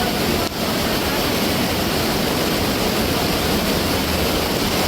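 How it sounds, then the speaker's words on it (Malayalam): Rushing floodwater roars steadily and loudly together with heavy rain during a monsoon flash flood, a dense unbroken wash of noise that holds for the whole span with no pauses. "അപ്പം മഴയും വെള്ളത്തിൻ്റെ ശബ്ദമൊക്കെ ആയതുകൊണ്ട്"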